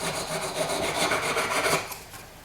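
Sandpaper rubbed back and forth over a sterling silver cuff bracelet, a steady rasping scrape in quick repeated strokes, close and fairly quiet, with no voices.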